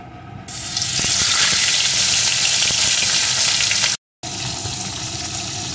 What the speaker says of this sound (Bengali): এখন এর ভিতরে আমি লবণ হলুদ মাখানো মাছগুলোকে একে একে দিয়ে ভেজে নেব।